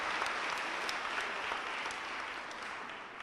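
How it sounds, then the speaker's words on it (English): An audience at a high school academic awards banquet claps steadily, a dense even wash of applause that tapers slightly toward the end. "Give these a round of applause."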